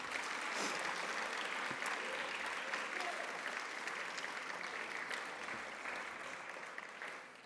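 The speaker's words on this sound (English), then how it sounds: "Please give a big round of applause for our candidates tonight." Sustained audience applause after a speech competition for cadets, steady and full for several seconds, a roomful of hands clapping in a hall and slowly tapering toward the end.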